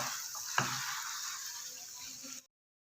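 Spices frying in oil in a pan for aloo tikki give a steady, close sizzle that runs evenly for about two and a half seconds, with one brief click near the start, then it cuts to silence.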